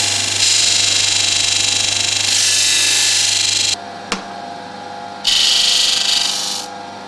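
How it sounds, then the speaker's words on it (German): A knife blade is ground to a radius on a grinding machine, a loud steady hum and hiss of the grinder broken by a pause, a sharp click, then grinding again. "Und gehen mit dem fein in die Schleifmaschine und das sauber abschleifen."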